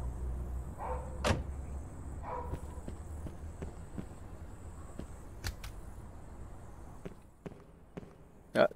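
A door shuts in the firefighter simulation game Notruf 112 with a brief knock among scattered clicks and thuds over a low steady hum, ending in a louder thump.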